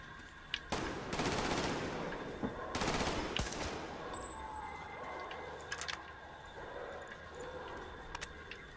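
Gunfire in the video game Metro Exodus: bursts of rapid automatic fire in two loud volleys, followed by scattered single shots and clicks over a low ambient background.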